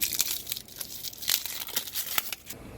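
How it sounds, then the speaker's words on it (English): Crinkly plastic wrapping is pulled and torn off a replacement part for a DIY water softener rebuild, a close, steady run of crackling and tearing bursts lasting a few seconds. "Go ahead and unwrap this."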